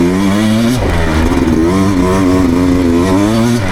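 A 2024 Beta dirt bike engine revs hard and close on a demo ride, its loud rasping note climbing and falling in pitch with no speech over it.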